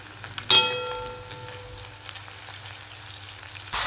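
Crushed garlic, a few curry leaves and turmeric hit hot oil with a sharp burst of sizzling, then settle into a steady fry with small crackles; no talking.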